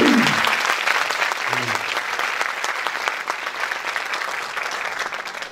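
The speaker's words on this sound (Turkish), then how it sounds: "Gençlere bir daha bir alkış az geldi." Seminar audience at a school in Turkey claps in sustained, loud applause, with dense clapping that fades slightly over a few seconds while a voice speaks briefly at the start.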